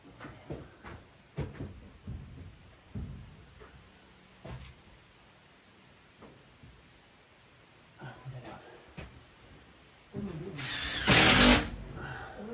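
A power drill drives screws while shed walls are being built, giving short whirring bursts and knocks of handling wood, then a louder sustained drill run near the end, with someone talking intermittently.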